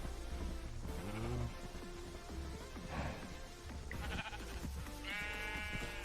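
Cows in the Minecraft video game moo and low repeatedly over a dense, busy game soundscape, several calls overlapping at close range with steady background tones.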